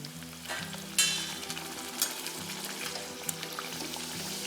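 Wheat-flour puris go into hot oil for deep-frying, a steady close sizzle and bubbling with a few brief splashes and light scraping as each one drops in; no one speaks.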